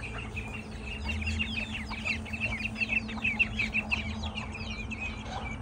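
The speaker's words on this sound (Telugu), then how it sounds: "కోళ్ళని వదిలేద్దాం, అవి పోయి బయట తిరిగేసి చక్కటి నాటుకోళ్ళు తయారవుతాయి." Free-range native country chickens clucking on a farm, with several birds giving overlapping clucks and chirpy calls close by over a steady low background hum, no voices.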